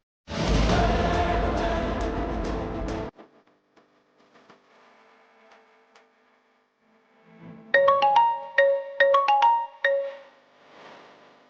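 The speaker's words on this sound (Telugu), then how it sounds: "తీయవే, ఫోన్ తీయవే" A phone ringtone plays in repeated melodic bursts after a loud burst of noise, with quiet gaps between rings.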